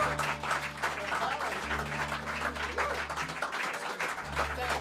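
An audience claps and cheers for the hosts of an Americana music event, a steady ripple of applause over a low held tone, with a voice speaking faintly beneath it.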